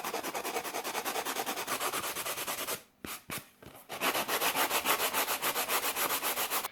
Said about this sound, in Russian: я возьму две губки абразивных, это с крупной наждачкой и с мелкой наждачкой, и заштукатурю вот эти вот края.